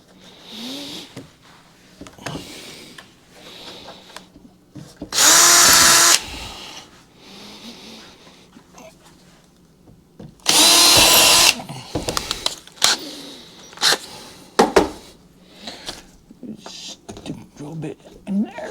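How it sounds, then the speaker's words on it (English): A power drill whirs in two loud bursts of a couple of seconds each, drilling small holes to mount a custom door panel on a Chevrolet C10 truck, with scattered tool clicks and handling noises in between. "A couple little drill holes and screw that one on."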